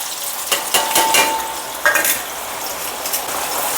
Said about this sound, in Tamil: இப்போ இந்த வெங்காயத்தை நல்லா பொறிச்சு